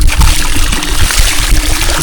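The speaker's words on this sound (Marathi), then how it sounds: "पंप चालू करू आपण." A water pump runs while water gushes and splashes steadily out of a pipe at a creek fishing spot, loud and close, with no talking.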